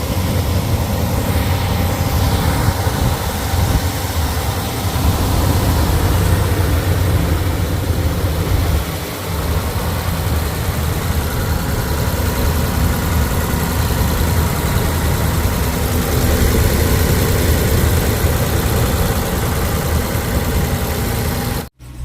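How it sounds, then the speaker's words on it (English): A RAM 2500 HEMI pickup truck engine with 50,000 miles idles loudly and steadily up close, a continuous low rumble with no talking, cutting off abruptly at the end. "I'm gonna turn it on, let you hear it run"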